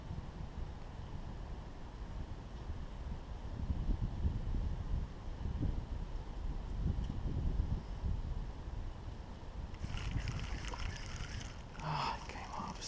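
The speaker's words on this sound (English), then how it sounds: "Man, that wind is making this so much difficult." Wind gusting over a winter creek during slip-bobber crappie fishing, a low buffeting rumble against the microphone that swells and eases, with faint rustling and clinks near the end.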